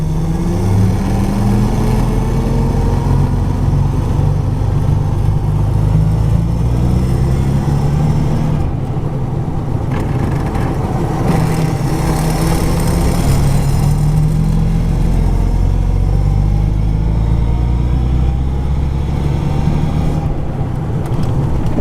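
An old car's engine runs steadily at a low idle, loud and close, with a constant rumbling tone and slight shifts in pitch, and no talking over it.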